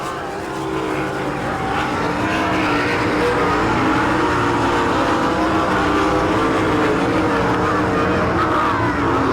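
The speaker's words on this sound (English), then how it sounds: "Through 3 and 4, Wilson passing the lap car of Jerry Frew." Sprint cars racing on a dirt oval at a Saint Clairsville, Ohio All Stars vs NCRA event, a loud continuous engine roar from several cars as one passes a lapped car through the turns, with a faint announcer voice under the noise.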